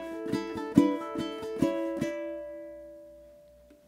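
Ukulele strumming a 16th-note etude passage on open chords: a string of quick, bright strums with a few accented hits that stop after two seconds, leaving one chord ringing out and fading. No voices.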